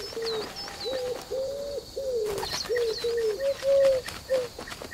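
A bird in the video game Alba: A Wildlife Adventure coos in a steady series of soft, repeated calls, with higher chirps from other birds scattered in the background.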